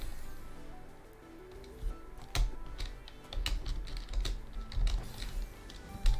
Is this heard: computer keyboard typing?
yes